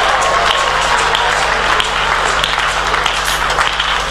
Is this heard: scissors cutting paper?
no